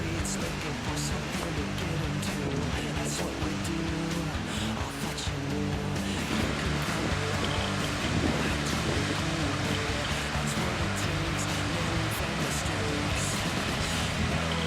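Waterfalls at a park in Sioux Falls, South Dakota, pour in a steady, loud broadband rush of falling water, constant throughout without pause.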